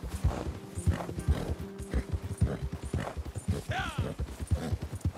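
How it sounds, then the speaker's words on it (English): Horse hooves clip-clop steadily through a Red Dead Redemption 2 ride, a rapid rhythmic beat heard close, with a brief whinny partway through and some talking over it. "my damn horse gets tired after like 30 seconds of riding"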